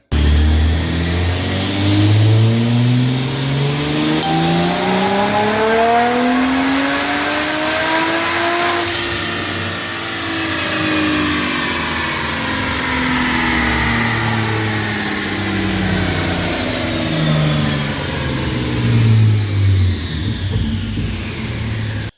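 BMW B58 engine tuned with a Dorch stage 1 map revving hard on a dyno, a loud continuous pull that climbs through the gears, with a brief dip and a high whine rising and falling across the run.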